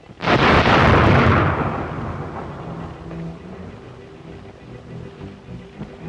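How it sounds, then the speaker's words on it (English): A rocket fires with a sudden loud whooshing blast that decays into a long, rumbling fade, heard alone aboard a sailing ship in a 1937 film. "There's your rocket."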